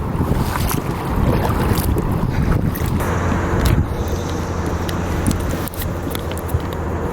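A boat paddled on the Connecticut River near Hartford, with continuous loud wind buffeting the microphone and a broad rushing water wash throughout, a few faint knocks and splashes showing through.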